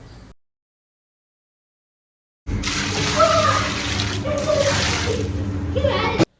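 Tamarind water poured into a large pot of sambar being cooked for about 150 people, a steady splashing, sloshing pour that begins after a silent gap and runs close and loud for several seconds.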